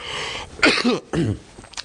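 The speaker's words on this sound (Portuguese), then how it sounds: "Eu tô com essa tosse horrível" A few harsh coughs in quick succession, close and fairly loud, separated by short pauses with a rough, throaty edge.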